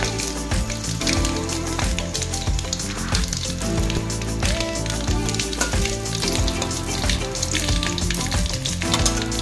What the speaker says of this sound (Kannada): ಅದಕ್ಕೆ ಒಣಮೆಣಸಿನಕಾಯಿ ಹಾಕ್ತಾ ಇದ್ದೀನಿ.